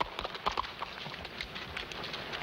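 Horse hooves clip-clop in a loose, steady rhythm at moderate distance, faint against outdoor background noise.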